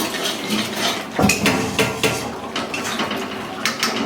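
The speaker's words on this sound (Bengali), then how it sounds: "যতক্ষণ ধরে না ঘন হয় ততক্ষণ একটু নাড়াচাড়া করে নিতে হবে" Thick homemade chyawanprash mixture stirred in a pan, a spoon scraping and knocking against the metal in irregular, close strokes with a few sharper clanks, no talking.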